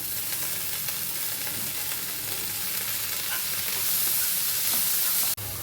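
Chopped tomato with turmeric, salt and spices fries in hot oil in a pan for a Bengali moong dal tadka, giving a dense continuous sizzle that grows slightly louder before cutting off abruptly near the end.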